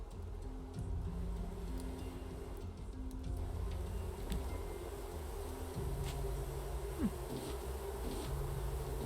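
Bees drone steadily around beehives in the survival game Raft, a continuous low buzzing hum with a few faint ticks, no talk.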